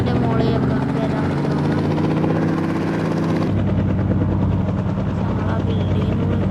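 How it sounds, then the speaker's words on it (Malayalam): A helicopter in a video game whirs with a steady, loud rotor thrum that continues throughout, its pitch shifting partway through as the craft manoeuvres near rooftops. "ഒരു ഹെലികോപ്റ്റർ വന്നിട്ടുണ്ട്."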